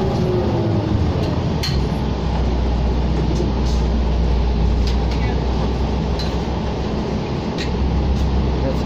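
Steady low rumble and road roar inside an ETS 2019-2020 New Flyer Excelsior XD40 40-foot bus, number 7130, riding route 9 Southgate in Edmonton, Alberta, with faint clinks and rattles over continuous engine and tire noise.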